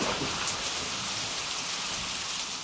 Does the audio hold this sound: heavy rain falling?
yes